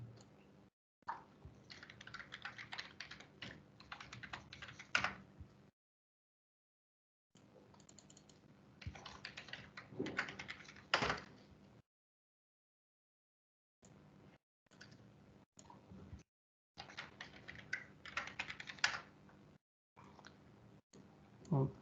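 Typing an email address and password on a computer keyboard, bursts of quick close key clicks broken by short pauses, quiet and steady.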